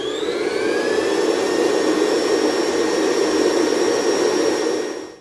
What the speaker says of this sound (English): I'm just going to give it a little bit more of a faster whisk